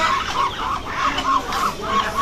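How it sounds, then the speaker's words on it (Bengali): Pekin ducklings are being caught by hand, and throughout the catch their high, rapid peeping and cheeping carries on without a break, close to the listener and fairly loud. "এই যে 4টা বেজিং হাঁসের বাচ্চা আছে"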